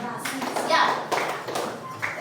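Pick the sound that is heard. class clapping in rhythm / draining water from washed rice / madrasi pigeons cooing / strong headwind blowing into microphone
class clapping in rhythm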